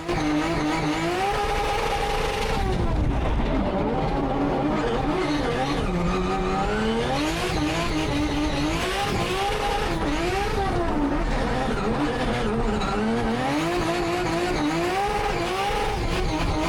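A loud, close engine of a Formula Drift BMW 1 Series drift car revs and rises and falls continuously at a keypad-set high idle, with tire squeal and skidding as the car drifts.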